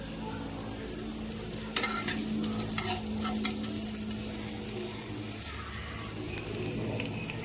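Two cracked cardamom pods and two bay leaves drop into hot oil with a sharp clatter, then sizzle steadily and closely while a few stirring scrapes follow, with no voices.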